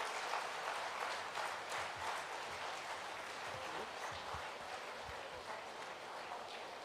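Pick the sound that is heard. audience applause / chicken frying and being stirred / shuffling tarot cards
audience applause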